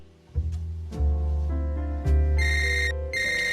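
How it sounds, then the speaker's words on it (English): An electronic phone ringtone plays loud and close, a repeating melodic sequence of tones with a bright high chime, signalling an incoming call. "another call comes in"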